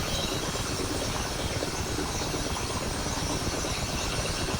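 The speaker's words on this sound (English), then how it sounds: "the engine RPM number 2 engine is creeping round as well. And as that creeps round, the rotor blade RPM will continue to climb" A Mi-8MTV2 helicopter's engines turning during a cold start as the rotor spools up, giving a dense, steady turbine roar and whine that stays loud and unbroken throughout.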